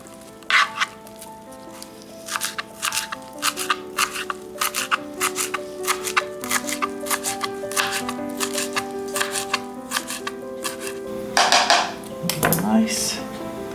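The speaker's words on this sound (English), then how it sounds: "Now I will chop green parsley." Green parsley chopped with a knife on a board for a corn casserole, a steady run of quick sharp taps over low background music, close and fairly loud.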